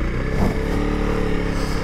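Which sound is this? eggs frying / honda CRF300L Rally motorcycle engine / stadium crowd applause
honda CRF300L Rally motorcycle engine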